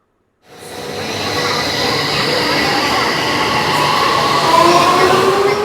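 A Delhi Metro train at night starts up and runs on, a loud steady rolling rumble with rising whine and faint wheel squeal from inside the carriage.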